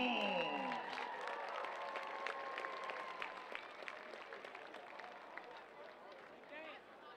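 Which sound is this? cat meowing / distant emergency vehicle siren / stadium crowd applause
stadium crowd applause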